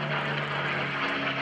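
P-51D Mustang piston propeller aircraft during a hesitation roll at an open house air show, a dense steady engine drone with strong low harmonics, loud and continuous for a brief moment.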